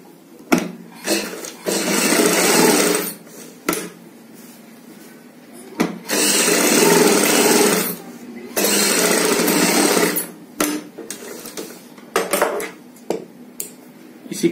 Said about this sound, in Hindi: अब हम यहाँ पे सिलाई लगाएंगे, सिलाई यहां से शुरू करेंगे